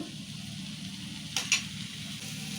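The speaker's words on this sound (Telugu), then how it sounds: "ఒకసారి ఇప్పుడు వేయగానే ఇట్లా కలుపుకోవాలి మంచిగా అన్నీ కలిసినట్టు." Red lentils and onions cooking in oil are stirred in a pan, a steady low sizzle running throughout with two brief scraping stir strokes near the middle; no talking.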